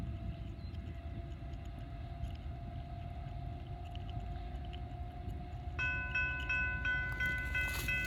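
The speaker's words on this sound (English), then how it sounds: "we have a southbound NS about ready to hit the diamonds for the crossing the B&O here on the coal sand line" A southbound Norfolk Southern unit tank train crossing the B&O diamonds on a coal line gives a steady low rumble, joined near the end by a loud, multi-tone horn blast.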